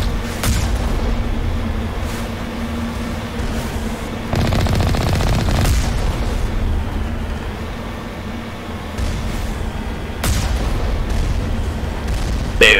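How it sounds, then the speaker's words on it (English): Turret gunfire in the Mass Effect game: sustained, loud automatic bursts with heavy booming impacts, swelling in stronger volleys around the middle and near the end, continuous throughout. "Oh, can I see turrets? I can see turrets. I can. I'm being shot at."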